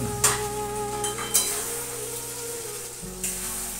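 Prawns sauté in hot oil in a pan for a prawn poppy-seed curry, a close, steady sizzle broken by a few sharp scrapes and knocks of a stirring utensil.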